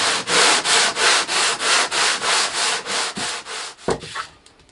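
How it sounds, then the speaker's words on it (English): Pallet wood rubbed back and forth on 60 grit sandpaper stuck to a workbench, flattening a tenor ukulele part: about a dozen steady, loud, rhythmic abrasive strokes, then a couple of knocks as it ends. "I've got some 60 grit sandpaper stuck to the bench. Let's spend a bit of time flattening it, shall we?"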